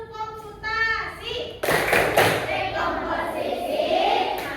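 Children's rhythmic clapping chant called tepuk komputasi, with a young voice chanting and then a burst of group hand clapping in a close, roomy space, continuing under speech.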